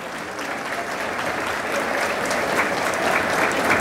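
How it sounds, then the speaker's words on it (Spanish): At a 2019 Rochavi school graduation, the audience gives a strong round of applause for the general director. The clapping is dense and continuous from a large crowd and grows slightly louder as it goes on. "Quiero pedir un fuerte aplauso para la profesora Rosario Chami Villamil"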